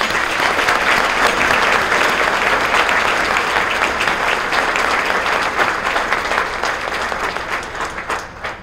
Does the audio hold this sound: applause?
yes